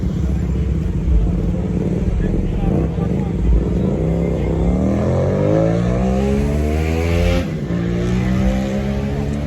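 A Mahindra Thar drives past amid a large Sunday group drive of more than 100 cars. Its engine note climbs and sweeps through the pass over steady road rumble, with other traffic around.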